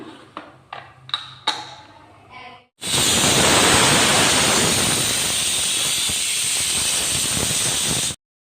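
A pressure cooker of egg biryani bursts into a loud, steady whistle and steam hiss that lasts several seconds, after a few light clanks in the kitchen.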